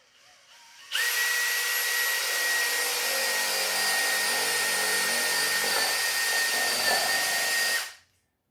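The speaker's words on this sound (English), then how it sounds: "So we drill it on the other side." A power drill whirs at high speed boring holes in a plunger for about seven seconds, steady and loud up close, then spins down and stops.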